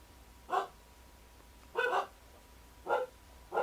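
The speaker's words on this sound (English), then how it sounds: "Hope you can't hear those dogs in the background." Dogs barking in the distance, four separate short barks spaced unevenly over a few seconds, faint against a quiet background with no talking.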